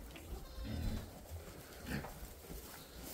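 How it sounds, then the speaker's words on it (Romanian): Goats bleat on a small farm, with a few short calls scattered over a busy, noisy outdoor background. "Aici avem celelalte căprițe"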